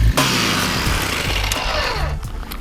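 An ice auger drills a hole through lake ice during ice fishing, its motor roaring loudly and steadily up close, with the pitch shifting slightly as the bit cuts through.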